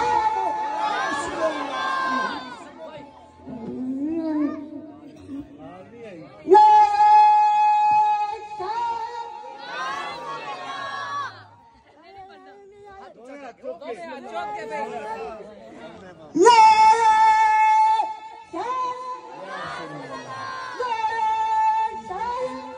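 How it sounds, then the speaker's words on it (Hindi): Large crowd chanting religious slogans in unison, loud repeated rhythmic shouts rising in bursts, with a single voice leading calls between the crowd responses. "आपने सुना होगा चीखो पुकार करके नारा लगाते हैं"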